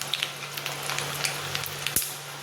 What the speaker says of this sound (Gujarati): આવી રીતે વડાને તળી લેવાના છે